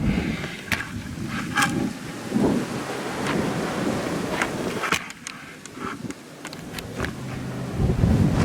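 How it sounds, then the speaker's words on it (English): Strong winter wind during an extreme cold snap buffets the microphone in heavy, rumbling gusts, with scattered clicks and knocks over the roar and no speech. "Windy."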